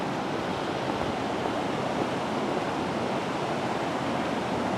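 Floodwater rushes over a temporary dam at Ozark Mill after heavy rain, a loud, dense, unbroken roar that holds at constant volume with no voices.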